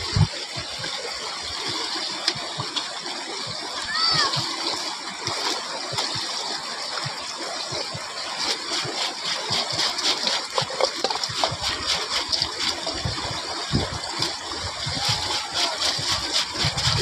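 Water sloshes and splashes continuously as someone bathes in a river at Panda Beach, a steady close wash of broadband noise with scattered louder splashes and no talking.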